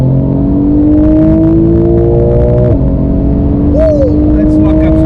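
A 2019 Porsche 911 with PDK gearbox accelerating hard, its engine note climbing steadily and loud, a quick gear change, then rising again, with people talking over it inside the car.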